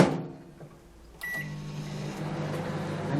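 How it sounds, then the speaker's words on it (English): A microwave oven starts up in a home kitchen, its steady low hum and whirring fan kicking in after a brief click and holding evenly, close and moderately loud. "I'm going to put this in the microwave now."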